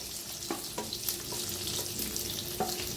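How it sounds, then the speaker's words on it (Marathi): Small green chillies fry in a pan as they are stirred, a soft continuous sizzle punctuated by light rhythmic scrapes of the spoon against the pan, close and with no voices. "आता जरा फिरवून घ्यायचं म्हणजे शिजतात लगेच"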